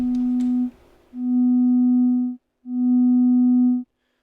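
A steady, loud sine tone from an Instruo Cs-L synth module shaped by a VCA, sounding in three sustained bursts with short gaps between them, alone with no voices.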